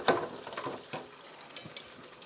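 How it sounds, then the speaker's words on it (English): Hot water cornbread deep-fries in oil, a faint, uneven crackle with scattered small pops and sputters over a quiet hiss. "Let her boil. Deep fry, not boil."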